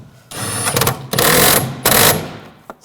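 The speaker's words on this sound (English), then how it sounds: "Now tighten this bolt down." Bolt being tightened on a 2007-2013 BMW 328i 3.0L inline-six during an upstream oxygen sensor replacement: three bursts of rapid ratcheting, close and fairly loud, with short pauses between.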